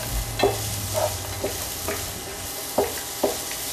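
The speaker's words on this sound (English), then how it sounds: "I hear the cashews starting to pop" Peppers and cashews sizzle steadily in a hot pan, with several distinct pops and stirring clicks spaced through the continuous frying hiss, close and fairly loud, with no talk.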